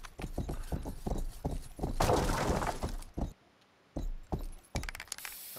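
Horse hooves clip-clopping during riding in the game Rustler, a quick steady series of hard knocks, with a sharp shattering crash in the middle and a few more hoof beats after a brief pause.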